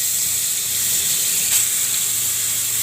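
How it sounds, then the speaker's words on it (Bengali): Fish fry in hot oil in a home kitchen, giving a steady bright sizzle and hiss with a small crackling burst midway, close and fairly loud, with no talking. "মাছগুলো ভেজে নিচ্ছি।"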